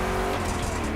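Chevrolet big-block cars race in the driving game The Crew Motorfest, a loud, dense engine roar filling the whole moment without a break.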